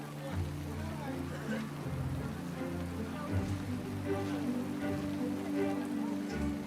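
Steady rain falls on surfaces in a cold, isolated rural Chinese village, a soft, continuous patter that sits faintly under a narrator's voice.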